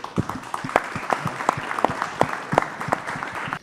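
Steady, dense applause from an audience at a sports-performance talk, loud and close, with sharp individual claps standing out through the roughly four-second wash and no talk over it.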